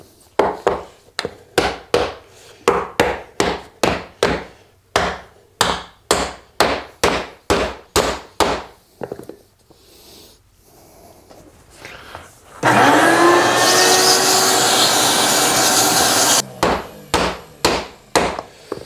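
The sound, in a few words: mallet striking a wooden bench foot block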